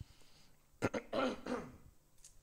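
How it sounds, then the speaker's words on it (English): Someone clears their throat close to the microphone, giving a couple of short rough rasping bursts and then a longer gravelly one against a quiet room. "Need to clear my throat."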